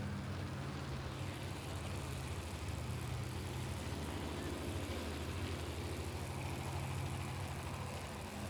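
Monster truck engines at a truck jam idle and rumble in the distance, a faint, steady low drone with a rattly texture and no voices.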